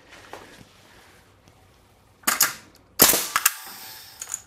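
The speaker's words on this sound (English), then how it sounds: "let's go ahead and fire one nail real quick here" A nail gun drives a single nail with a sharp, loud pneumatic bang, followed by a second burst and a short hiss of air, against a quiet background.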